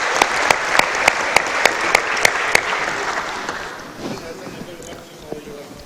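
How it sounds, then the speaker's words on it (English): Sustained applause from a conference audience welcoming a speaker from the European Asphalt Pavement Association, loud dense clapping with a few sharper claps standing out, then thinning and fading toward the end. "A warm round of applause, please."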